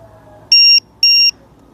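A low-voltage battery alarm buzzer for an RC trainer plane sounds two loud, piercing electronic beeps of equal length with a short gap between them.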